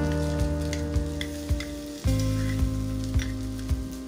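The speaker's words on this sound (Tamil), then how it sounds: "இப்போ இந்த மசாலாவோட பச்சை வாசனை போக நல்லா வணக்கணும்." Masala and onions frying together for a country chicken curry, a loud close sizzle with regular spatula knocks and scrapes against the pan over a steady hum.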